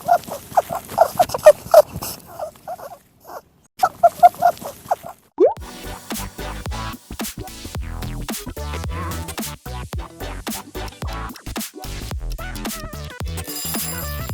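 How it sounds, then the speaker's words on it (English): A rabbit makes a strange sound: a string of short, bright squeaky chirps in quick bursts and pauses, followed by a dense run of rapid clicking, rustling noises that fills the rest. "It's a rabbit."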